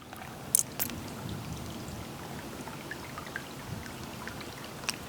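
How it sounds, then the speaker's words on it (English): A creek winding through a redwood property in California runs softly in the distance as a steady, faint trickle with a few small splashes and no voices. "Can you hear the creek running?"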